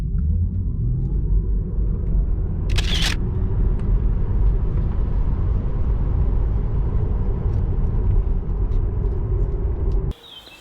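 A Tesla Model 3 RWD electric car accelerates hard on a track, giving a loud, steady rumble of road and cabin noise that cuts off abruptly near the end.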